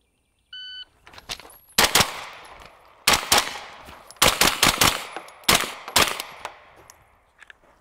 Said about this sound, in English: So I just shot that kind of PCC mode